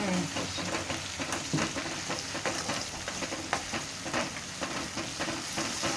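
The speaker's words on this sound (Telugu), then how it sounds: "పచ్చివాసన పోయేంత వరకు మంచిగా ఫ్రై వేసుకున్నాక" Fresh ginger garlic paste frying in a pan: a dense, steady crackling sizzle with occasional stirring scrapes, close and moderately quiet, with no voices over it.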